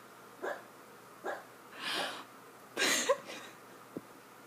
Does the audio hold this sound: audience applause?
no